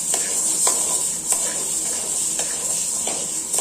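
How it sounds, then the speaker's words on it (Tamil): Half a kilo of green gram dry-roasting in a pan, a steady hissing rattle of grains with periodic stirring scrapes every half second or so, close and fairly loud with no talk. "அரை கிலோ பச்சை பயிறு இப்போ நம்ம வறுத்துக்கலாம்"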